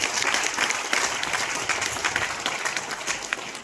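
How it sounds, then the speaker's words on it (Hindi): Audience applause at a stage event honoring a speaker, loud continuous clapping from a crowd that stays dense and even from start to finish. "एक बार जोरदार ताली"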